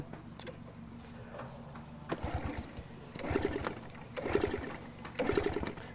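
A Honda Wave 110i LED motorcycle that won't start makes a series of short, rhythmic whirring cranking bursts roughly a second apart, each dying without catching, heard faintly up close.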